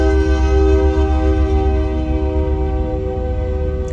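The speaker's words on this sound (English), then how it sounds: "Oh, that train's getting loud." A train passes close by a car parked in a lot, producing a loud, steady rumble with strong sustained horn-like tones that stays steady for the full stretch.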